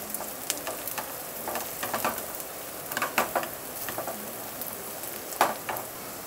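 Onions and chillies fry in a pan over raised heat for an omelette, a close, continuous sizzle broken by sharp crackles and bursts as the pieces are stirred.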